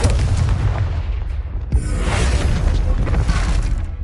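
A Confringo blasting curse detonates in a video game, a dense, booming explosion with a sharp crack near the middle, followed by a rolling roar that fills the whole moment.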